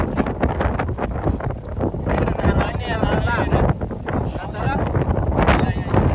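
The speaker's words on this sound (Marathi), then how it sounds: "बरं हवा बघा किती" Strong wind roars steadily across a microphone on a mountain peak in Maharashtra, the highest summit in the state. The rumble fills the whole stretch, with people talking faintly under it.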